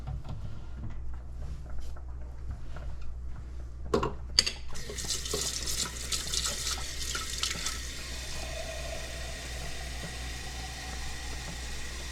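Warm water runs from a tap into a bowl holding yeast and salt for bread dough, a steady faint splashing stream that starts after a few seconds and continues, with low background rumble and no speech.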